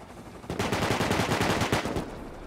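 Rapid automatic AK rifle fire in the survival game Rust, a dense burst of close, loud shots rattling continuously for about two seconds after a brief quiet start.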